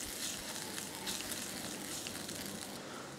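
Garlic chicken frying in a pan while being stirred, a steady dense sizzle, moderately quiet and close, with no talk.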